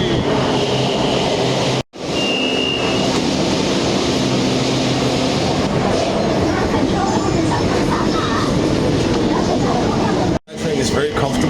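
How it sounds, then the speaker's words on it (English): Bangkok SkyTrain running on its elevated line: a loud, steady rumble and rushing hiss of the moving train, broken by two brief sharp dropouts, with no voices. "Let's go grab the SkyTrain!"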